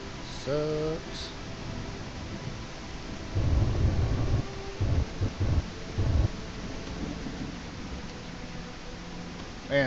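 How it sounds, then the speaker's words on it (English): Heavy rain with low thunder rumbles in a railroad and mining video game, a steady wash of rain broken by louder rolling bursts midway, with a brief tonal game sound near the start. "This rain sucks."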